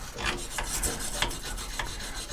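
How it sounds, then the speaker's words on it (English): Light sandpaper scrubbing inside a Moen Posi-Temp faucet cartridge housing, a quiet close-up raspy rubbing in quick repeated back-and-forth strokes. "a light sandpaper too and do this"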